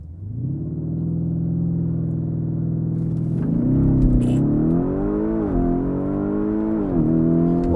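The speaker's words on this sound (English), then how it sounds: "With launch control." A 2024 Lamborghini Urus Performante with a 4-liter twin-turbo V8 launches under launch control: a steady low idle hum swells into a loud, rising engine roar with rapid gear-change dips, heard close from inside.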